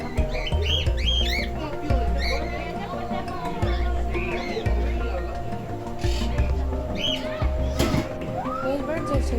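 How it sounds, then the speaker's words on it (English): Birds chirping and calling in a Florida wildlife and nature park, overlapping high calls over a steady bed of crowd noise and low rumble throughout. "Those birds are so chill."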